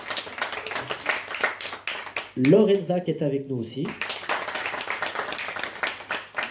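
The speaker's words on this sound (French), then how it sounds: "je vous prie d'applaudir donc Gwen Delmas" An audience at a literary conference claps steadily for the authors, with a crisp, continuous patter of hands that briefly drops under a short spoken introduction before resuming.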